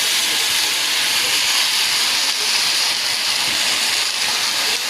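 Leafy greens dropped into a hot pan with fried fish head and salt, giving a loud, steady hiss of steam and sizzling that holds evenly throughout with no pauses.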